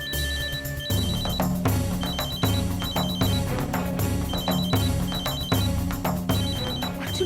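A phone rings in a repeating electronic ringtone pattern that plays steadily under a busy background of music, with no voices heard.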